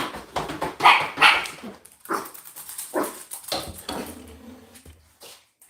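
A pet dog barks several times close by indoors, a quick run of sharp barks followed by softer yips and whimpers.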